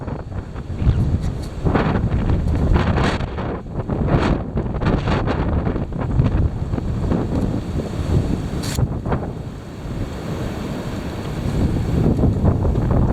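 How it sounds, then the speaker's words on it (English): Heavy wind gusting hard against the microphone, a loud continuous roar with surging buffets throughout, no voices. "Now that's a hard wind. Here it is. The heavy wind."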